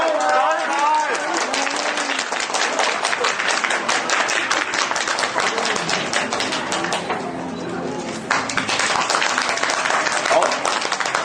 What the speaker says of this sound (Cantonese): 我俾掌聲各位好唔好？